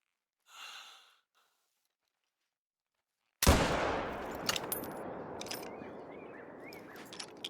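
One loud, close blast from a .577 black powder rifle in the Call of the Wild hunting game rings out after a soft breath, followed by a long rolling echo with faint outdoor sounds.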